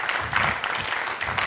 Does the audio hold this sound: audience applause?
yes